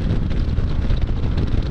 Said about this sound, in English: And if you haven't noticed, it's quite windy.